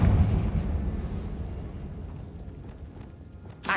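A fiery blast spell detonates in a wizarding action game, a loud booming explosion that decays into a rumbling tail, followed by a sharp new burst at the end.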